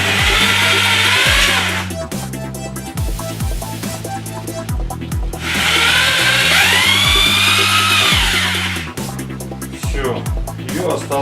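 A power screwdriver drives two 50 mm self-tapping screws into a fitting while a Bavaria fireplace stove is being installed, whining in two long bursts with a rising pitch, separated by clicks and handling noise, close and loud.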